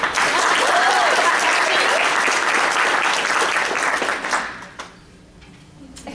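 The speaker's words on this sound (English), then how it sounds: "So round of applause." An awards ceremony audience applauds winner Sarah Peck with full, steady clapping that fills the room, then fades out quickly near the end, leaving a quiet room.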